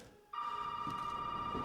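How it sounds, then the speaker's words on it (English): A telephone rings in the horror game Resident Evil 7, a steady electronic tone that starts abruptly and holds loud and unbroken, with faint low rumbles of ambience underneath. "There's the phone ring."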